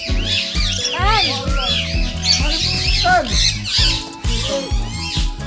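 Noisy birds at an animal sanctuary squawk and chirp repeatedly close by, their loud calls overlapping with people talking nearby.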